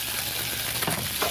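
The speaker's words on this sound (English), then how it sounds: "I'm gonna drop some gnocchi in the other pan." Parisian gnocchi hitting a hot pan in a restaurant kitchen, giving a steady, close, broadband sizzle with a brief swell near the end, with no talking.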